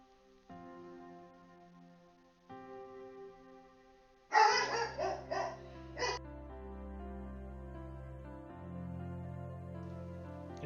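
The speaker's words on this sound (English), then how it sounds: "Apologies for the dog." A pet dog barks in a short, rapid burst of several yaps close by indoors, then falls quiet beneath a low steady hum.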